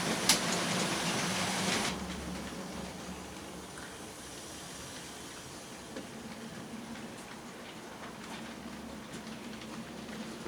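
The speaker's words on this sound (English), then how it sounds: "So the train's moving out of the section." A model railway train moves out of a section of the layout, a brief louder burst at the start giving way to a low, steady rolling rumble with faint clicks, alone and without voices.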